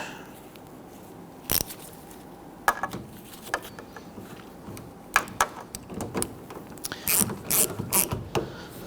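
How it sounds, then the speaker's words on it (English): Ratchet snugging the exterior door handle screws on a 2011-2015 Kia Sorento: sharp, close clicking bursts in short runs, growing busier toward the end, with no talk. "Then go ahead and grab your ratchet."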